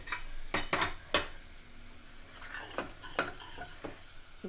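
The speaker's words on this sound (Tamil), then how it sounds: "நல்லா நெய் விட்டு இதை வதக்குறேன்." A spoon stirs and scrapes food frying in ghee in a pan, in a series of sharp, close metallic strokes over a quiet sizzle, while black rice pongal is being made.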